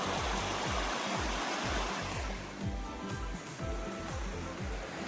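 Fall Creek runs full after heavy rain along a forest loop trail near Felton, a continuous broadband rush of flowing water with a recurring low thumping underneath and no voices.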